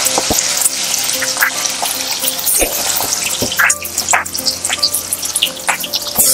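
Chopped tomato, onion and capsicum going into hot oil for Hyderabadi chicken, a loud crackling sizzle close by with scattered clatters and splutters, no talk.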